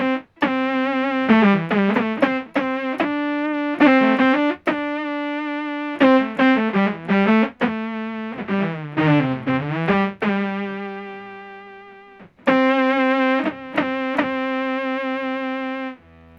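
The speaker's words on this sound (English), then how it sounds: "here's kind of like a little pinch harmonic on super clean guitar" Clean electric guitar through a synth-style effects pedal plays a melodic line with squealing pinch harmonics and pitch bends, loud and continuous.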